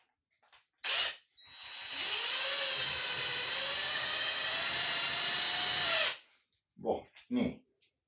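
A power drill drives a long screw into wood, whining steadily for about four seconds at close range, with short knocks and bumps before and after.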